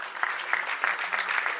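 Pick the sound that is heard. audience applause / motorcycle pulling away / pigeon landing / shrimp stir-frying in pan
audience applause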